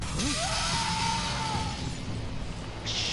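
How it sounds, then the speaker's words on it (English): Glass shatters in the Telltale Batman video game, a bright crash at the start followed by a long fading tinkle over a low background hum, with a second burst of noise near the end. "How did no one hear that the glass crashing?"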